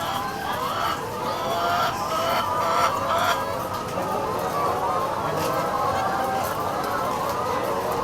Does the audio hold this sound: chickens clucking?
yes